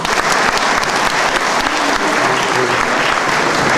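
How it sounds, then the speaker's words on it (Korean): Warm welcoming applause from a large audience at a school alumni homecoming event, a loud, dense, sustained wash of clapping that fills the room evenly from start to finish, with faint voices mixed in. "모두 함께 환영의 박수로 크게 맞으셨으면 고맙겠습니다."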